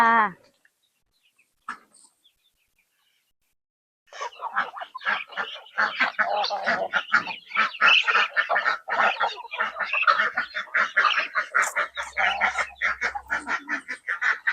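Chickens in a backyard coop cluck and squawk in a busy, continuous chorus after a brief quiet start, loud and close with overlapping calls.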